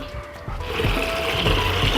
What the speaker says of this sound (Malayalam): അര ബക്കറ്റ് വെള്ളം